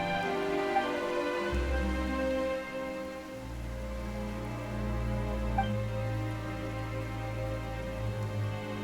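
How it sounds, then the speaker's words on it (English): Rain falls steadily in a fantasy video game as a catastrophe approaches, a continuous even hiss of droplets with low sustained game music underneath, no voices in the clip. "Why is it raining all of a sudden?"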